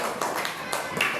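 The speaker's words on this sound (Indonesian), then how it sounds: "Beri tepuk tangan untuk kelompok Muhammad Hatta." Hands clapping in a fourth-grade maths classroom for a student group, a few loose claps spread across a short moment, close and fairly loud, with voices in the room underneath.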